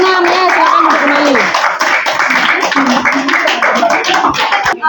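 Classroom of students clapping for a group of presenters, a dense steady patter of many hands, with voices chattering over it throughout.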